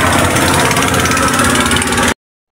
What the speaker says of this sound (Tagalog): Balyado ang makina.